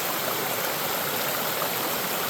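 North Harper Creek in Pisgah National Forest, North Carolina, rushing over rocks as a steady, close, broadband wash of flowing water with no voices.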